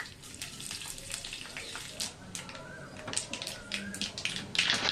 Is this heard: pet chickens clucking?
no